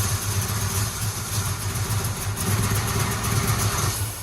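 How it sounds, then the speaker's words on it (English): A 1962 Chevrolet pickup engine revived after 20 years sits idling roughly on its own, a loud, steady low rumble with a slightly uneven pulse throughout. "Almost idling on its own after 20 years"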